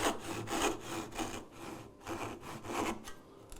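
A hand saw cuts dovetails in wood with steady rasping back-and-forth strokes, heard close and moderately quiet with no voices.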